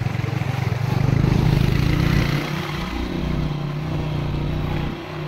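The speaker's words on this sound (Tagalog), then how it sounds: "Kahit baha pa niya, tawid ko dito yung motor namin." A motorcycle pushes through a flooded river crossing in rural Palawan, its engine droning loud and steady with rough low rumble and splashing, easing slightly toward the end.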